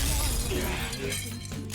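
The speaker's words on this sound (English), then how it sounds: "An enemy's frozen! Let's shatter it in one strike!" A frozen enemy shatters in Persona 5 Royal, a bright glassy crash of breaking ice at the start that gives way to ringing, tinkling game sound effects and a decaying tonal tail.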